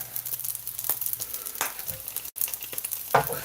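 Pork fried rice stir-frying in a hot pan, a steady close sizzle and crackle with scraping spatula strokes and brief louder bursts as the rice is tossed.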